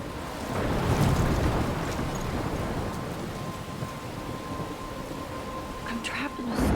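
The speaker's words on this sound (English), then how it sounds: "I'm trapped in a storm." A storm roars in Life is Strange, with heavy wind and crashing waves forming a dense, loud, continuous rush, a faint steady tone running through it and brief sharper gusts near the end.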